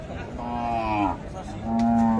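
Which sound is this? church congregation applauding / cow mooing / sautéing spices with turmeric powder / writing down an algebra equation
cow mooing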